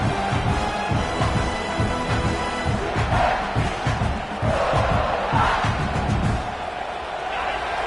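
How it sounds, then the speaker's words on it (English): A large stadium crowd in a college football video game roars steadily throughout, dense and loud, with swelling cheers rising and falling over the continuous din. "Listen to the crowd energy here in the early going."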